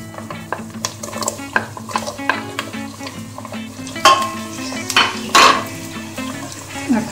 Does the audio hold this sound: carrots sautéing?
yes